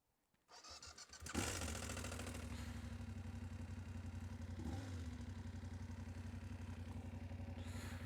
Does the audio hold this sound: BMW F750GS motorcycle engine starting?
yes